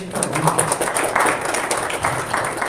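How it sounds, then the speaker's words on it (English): A crowd at a town board of commissioners meeting applauds with dense, steady clapping that carries on throughout, a voice faintly audible underneath. "Let's give him a round of applause."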